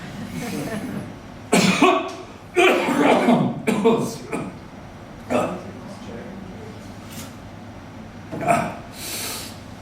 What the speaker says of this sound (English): The doctors told me the cough would go away in a few weeks.